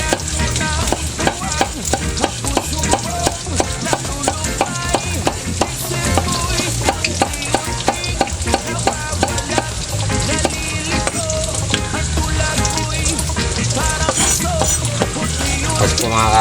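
Tomatoes go into a pan of sautéed garlic for ginisang ampalaya with shrimp, tofu and egg, producing a loud, steady sizzle with rhythmic stirring and scraping throughout.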